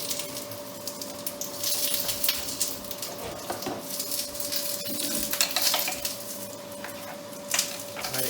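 Salmon fishcake mixture sizzles steadily in a frying pan on the stovetop, a continuous close crackle with occasional scrapes and stirs of a utensil against the pan.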